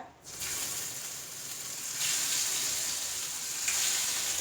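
Bral and chemballi fish frying in hot oil, a steady close sizzle that swells louder midway and holds, with no talking.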